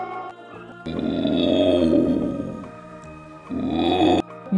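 A tiger roars in a kids' alphabet lesson: two loud, sustained roaring growls, one long and one shorter, separated by a brief quieter gap.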